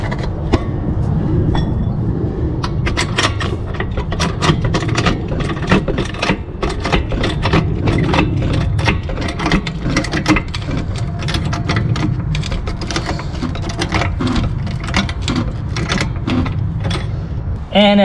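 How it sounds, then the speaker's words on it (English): A car jack lifting a vehicle at its tow hook point during chassis lubrication, giving a steady run of close mechanical clicks and ratcheting strokes over continuous low rumble. "we're gonna jack up the vehicle right here"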